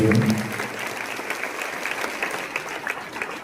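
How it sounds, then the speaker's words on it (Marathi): A lecture hall audience breaks into loud, sustained applause for the speaker, dense clapping that fills the room throughout and trails off slightly toward the end. "एकदा हंकारी सरांसाठी जोरदार अगदी सर्व टाळ्या"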